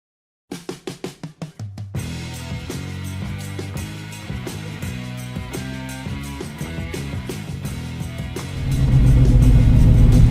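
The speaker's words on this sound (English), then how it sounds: "today I am blessed with getting to drive this 1968 Chevy Camaro SS L88 427 big block" A 1968 Chevy Camaro SS L88 with a 427 big-block V8 fires up with a few sharp bursts, then settles into a loud, steady rumble that swells into a heavier, louder rev near the end.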